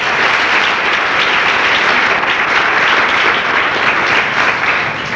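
A church congregation breaks into dense, sustained applause, loud and close, a steady wash of many hands clapping without pause for about five seconds.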